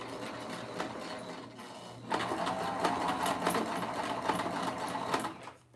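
A sewing machine stitches slowly through three layers of lingerie fabric at the gusset, a soft mechanical whir that picks up after a brief pause into a steady rattling run before stopping.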